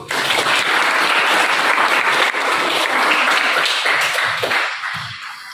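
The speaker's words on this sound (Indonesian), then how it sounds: "Jadi tepuk tangan untuk itu." A classroom crowd claps steadily and loudly for several seconds after group presentations, the applause thinning out toward the end.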